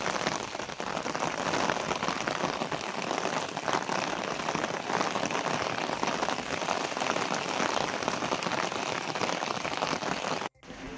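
Steady heavy rain falling in Madurai district, Tamil Nadu, a dense continuous hiss of drops on surfaces, loud and close throughout with no talk, ending with a brief cut.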